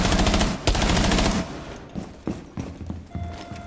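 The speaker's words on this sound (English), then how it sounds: "So there's Fuse, take him down, get a few shots on Ying." Bursts of gunfire in the Rainbow Six Siege video game begin with loud, rapid automatic fire, then thin out into scattered single shots and thuds.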